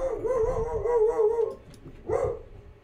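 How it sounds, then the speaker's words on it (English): A dog whimpers and howls in a long, wavering, high-pitched cry lasting over a second, then breaks off into a shorter rising whine, close by and loud with no talking over it. "What's up with my dog?"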